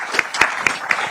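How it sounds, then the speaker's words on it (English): An audience at an African skills event claps in a short, steady rhythm of four or five loud beats. "That is a wonderful answer. Give her claps"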